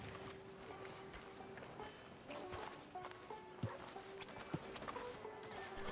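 Quiet, steady clip-clop of horse hooves walking over a soft ambient background in the video game Red Dead Redemption, with a few sharper knocks mixed in.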